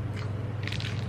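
Crunchy sugared peanut candy is bitten, giving a short close crisp crunch over a steady low hum.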